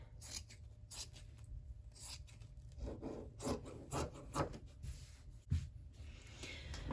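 Scissors rasp and snip steadily as someone trims the end of a quilted fabric tote bag, a close, soft series of cutting strokes with no talking.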